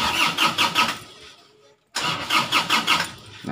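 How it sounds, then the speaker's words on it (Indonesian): A car's starter cranks the engine in two long, rhythmic bursts separated by a short pause, never catching because a GPS tracker has cut the fuel supply, close and loud. "Ini saya coba starter lagi mobilnya."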